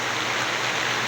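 A brief stretch of heavy rain, a constant loud wash of water hitting surfaces nearby.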